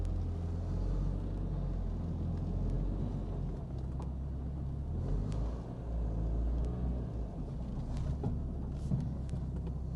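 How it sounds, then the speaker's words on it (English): Renault Clio RS 182 reversing out of a garage and ticking over on the drive, a low, steady engine rumble with small shifts in level, heard close and without talk. "So just going to quickly reverse it out, leave it ticking over, just quickly check the brakes on the drive at slow speeds."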